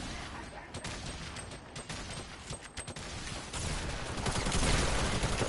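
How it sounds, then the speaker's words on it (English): Gunfire from a Fortnite Battle Royale match, a rapid run of sharp shots and bursts that grows denser and louder toward the end, mixed with game noise. "I hear gunshots."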